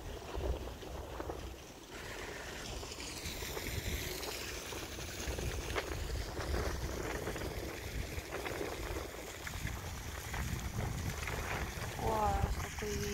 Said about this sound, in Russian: О, какой ветер сильный.